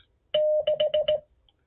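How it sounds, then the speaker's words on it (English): Morse code for the numeral six, a clean beeping tone: one long dash followed by four quick short dits in even rhythm, crisp and isolated against quiet. "A six is da-di-di-di-dit."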